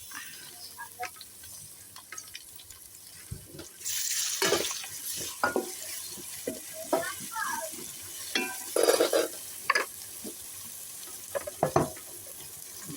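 Ginger garlic paste frying in a pan for Andhra-style chicken gongura, a soft sizzle broken by intermittent spoon scrapes and stirring clatter that grow busier and louder after the first few seconds.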